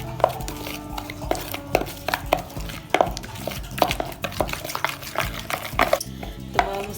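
Spoon clinking against a bowl while spices, lemon juice and yogurt are stirred into a chicken marinade for tikka biryani, a steady series of close scraping and tapping knocks in uneven rhythm, no talking.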